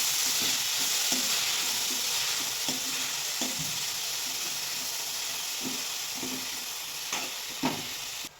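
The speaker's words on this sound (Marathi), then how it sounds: "ही मेथी घालून घ्यायची चांगलं परतून घ्यायचं" Fenugreek leaves sautéing in oil for village-style methi matar malai, a continuous close sizzle with repeated soft scraping stirs of a spatula against the pan, gradually easing in loudness, no voices.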